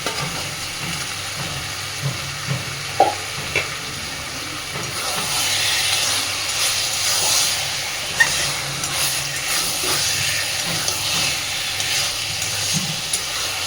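Spice paste fried in reserved oil together with potatoes for a traditional Bengali bhetki fish-bone chachchari, giving a steady hiss and sizzle with a few soft clinks of stirring throughout, no talking.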